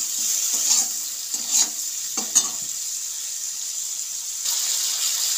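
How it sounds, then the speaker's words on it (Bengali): Prawns sizzle in hot oil in a pan for a village-style raw jackfruit and prawn dish, a steady high fry broken by a few short bursts of stirring. "চিংড়ি মাছটা ভালো করে ভেজে নেব।"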